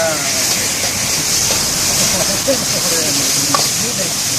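Seafood fried rice with pork, shrimp and squid sizzles and scrapes in a hot pan, a loud continuous frying hiss with stirring clatter, while people talk over it.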